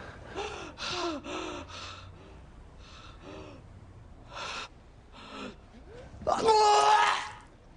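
A woman retches and vomits in a loud, strained burst after a series of gasping, heaving breaths, close to the listener.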